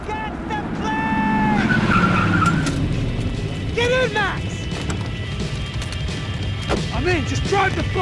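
A car in the Max Payne 3 video game skids with squealing tires over a steady engine roar, loud and close, with a crash-like thump partway through and voices talking over it.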